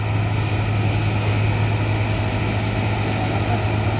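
Engine of an Italian-made trash-collecting machine running steadily at Manila Bay, a constant loud droning hum with a strong low tone, no pauses or talk.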